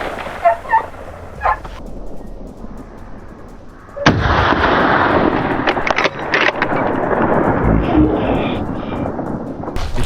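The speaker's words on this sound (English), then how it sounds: "The gunshot roared, dust filled the air, and the beast collapsed" One sudden, loud gunshot fired at a wild boar in snowy wilderness cuts through a quiet start with a few faint clicks, then gives way to a long, rumbling roar that fades slowly.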